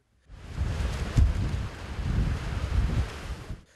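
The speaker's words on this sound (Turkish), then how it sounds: "Yola taşan dev dalgalar sürücülere de zor anlar yaşattı." Strong southwesterly Lodos wind, gusting up to 100 km/h, roars over the microphone while huge waves crash, surge and spill onto a road nearby, a loud, continuous churning rush with no speech.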